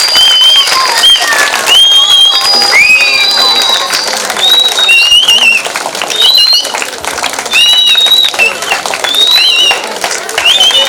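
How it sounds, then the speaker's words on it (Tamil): An audience claps at a kummi dance event at a Sri Muthumariamman temple in Coimbatore, loud and close, mixed with shrill chirping, whistle-like tones and voices throughout. "கைதட்டுங்க."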